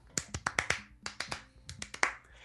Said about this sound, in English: He claps his hands. And so does everyone else.